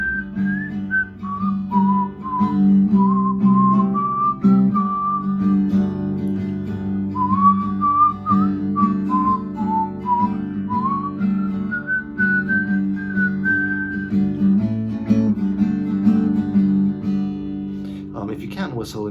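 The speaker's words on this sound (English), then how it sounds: "I just whistle it out if I don't know the chords to a song and I just want to figure it out quickly." A person whistles a slow, wandering melody, close and clear, over a steady low droning accompaniment that continues throughout.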